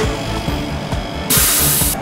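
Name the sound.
ElmaTech Midispot AV automatic spot welding machine welding a panel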